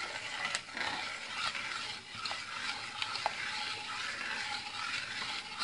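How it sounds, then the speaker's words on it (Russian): Continuous scraping and stirring of milk pudding in a saucepan, a spoon rubbing steadily against the bottom with soft clicks, close up and without speech. "Мешаем, стараемся хорошо по дну, чтобы не пригорело"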